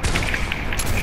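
A single brief, loud gunshot burst in Fortnite creative mode, a sharp crack with a dense blast filling the short moment.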